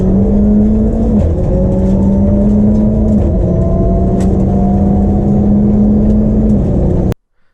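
A rally car on stage 4 of the Working Dog Rally drones loud and close, its engine pitch climbing in steps through gear changes before the sound cuts off abruptly.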